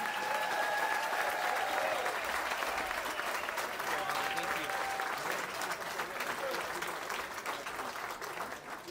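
A crowd applauds at a Southern California graduation commencement, sustained dense clapping filling the hall, with voices faintly mixed in as it slowly tapers.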